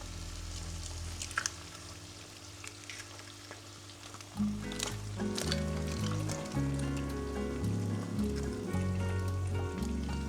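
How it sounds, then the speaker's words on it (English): Eggs frying in a pan with potatoes, a steady crackling sizzle that grows denser and louder midway as the eggs hit the hot oil, with faint clinks and a low hum underneath. "I break the eggs into the pan."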